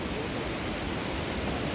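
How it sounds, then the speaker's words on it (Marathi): A waterfall pours in a steady broadband rush, even and unbroken, heard from nearby with no voices. "यो धबधबा खाली आहे."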